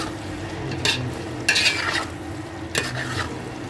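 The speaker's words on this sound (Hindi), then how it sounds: "अब इन सब चीजों को अच्छे से मिक्स कर देते हैं।" A spiced potato and eggplant curry stirred in a pan with a spoon, soft sizzling underneath and three distinct scraping strokes, close and moderately loud.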